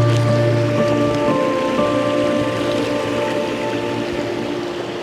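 A forest creek beside a logging road rushes steadily, a constant broadband wash of flowing water with a faint tonal hum running through it, unbroken and even throughout.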